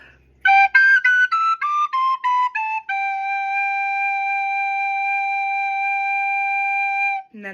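A bright soprano recorder runs quickly down a scale of short, tongued notes, then settles on one long sustained low tone held for several seconds.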